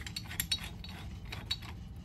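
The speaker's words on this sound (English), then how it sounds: "I love that quick slide to get to where you want to be. And you just finish up the tightening" ICON S-Jaw quick-adjust pliers wrench sliding its jaw and tightening, giving faint metallic clicks and ratcheting ticks at a steady rhythm, quiet and close with no talk.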